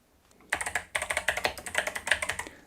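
Rapid, steady keystrokes rattle on an 8BitDo Retro Keyboard, close and distinct, with a brief pause after the first few presses before the typing resumes at an even pace. No one speaks.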